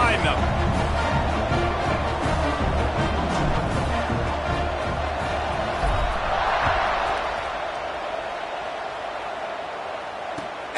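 A steady, loud stadium crowd roars through a college football kickoff between North Carolina and Miami in a video game, easing slightly toward the end.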